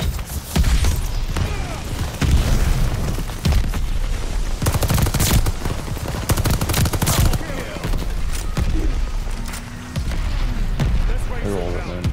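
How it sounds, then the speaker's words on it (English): An airstrike and heavy gunfire rage in Call of Duty Vanguard multiplayer: dense, continuous volleys of shots and booming explosions, loud and close throughout, with voice callouts mixed in. "Allies called an airstrike."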